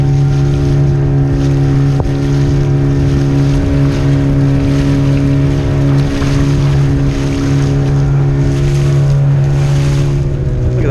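An outrigger boat's motor drones steadily as the hull moves over the sea near Kuta, with constant engine hum, water rush and wind noise close by, no talking.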